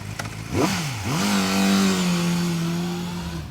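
A 450RR motorcycle engine revs hard, a quick blip rising and falling, then climbing into a sustained high-pitched wail that holds steady before easing off, loud and close with no voices.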